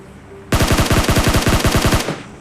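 A rapid burst of automatic gunfire in a battle-royale shooter game, about fifteen loud, evenly spaced shots over a second and a half, fired alone without talk.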